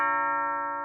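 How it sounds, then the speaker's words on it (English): A doorbell rings once with a sustained, clear electronic chime tone holding steady and slowly fading, close and alone. "I do hear a doorbell"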